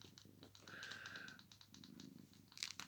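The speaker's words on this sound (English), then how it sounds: "Cat's getting a bit playful." A cat resting on someone's lap purrs softly and stays fairly quiet, with a brief higher vocal tone partway through and light clicking or tapping sounds scattered around it.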